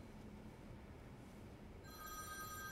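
A telephone bell starts ringing partway through, its bright tonal ring rising over a steady indoor room hiss. No one speaks.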